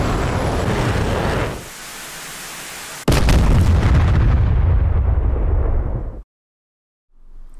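KH-25ML missiles fired at targets in DCS World from an Su-25T, a loud rushing blast that cuts off, then a sharp booming explosion with a long roar that ends abruptly in silence.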